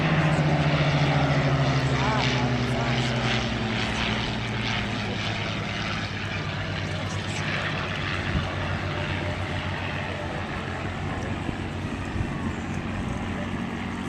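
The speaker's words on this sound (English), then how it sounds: "What you heard there was something that is very rare. Number one, it's a piston engine." Piston-engine warbirds roar past at an air show over Jones Beach, a loud, sustained propeller drone with a sliding pitch as they fly by, continuous for many seconds over the crowd and wind noise.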